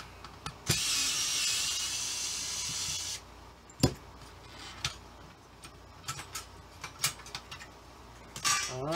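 Clicks, ticks and light metallic clatter of tools and loose screws as a small fan is taken apart, scattered taps and knocks after a steady hiss fades, close by with no talking.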